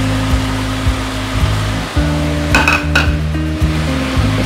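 Sausages dropped into a hot pan of fried chicken for nasi goreng give a steady loud fry with a low background hum, punctuated by a few clinks of a utensil against the pan.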